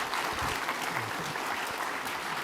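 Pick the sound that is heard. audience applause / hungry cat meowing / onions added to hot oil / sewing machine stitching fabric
audience applause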